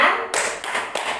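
A group claps out a Tepuk P2K2 chant at a parenting session, three sharp, loud claps in quick succession, close and in a steady rhythm.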